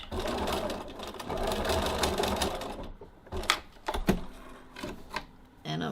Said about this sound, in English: I'm just going to baste the ends together.